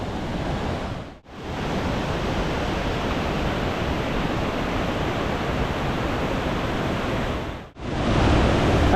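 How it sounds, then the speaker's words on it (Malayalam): Water gushing from a penstock pipe at Aruvikkara dam, a loud continuous broadband roar close to the listener, cut by two brief dips in level. "ആ പൈപ്പിൽ നിന്ന് വെള്ളം പൊട്ടിയടിച്ച് വരുന്നൊരു കാഴ്ചയാണ്"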